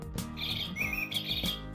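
A small bird chirps in bright, repeated tweets over a steady backing tune, fairly loud and close, with several short call bursts across the stretch.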